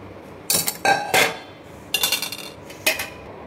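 Metal kitchen pots and utensils clink and knock in several separate bursts while extra milk is set aside in a home kitchen, close and fairly loud with short pauses between.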